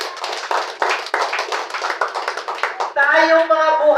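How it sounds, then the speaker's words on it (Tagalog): A congregation at a Sunday morning church service claps loudly in quick, fairly even beats for about three seconds, then a voice comes in. "Malakas na palakpak."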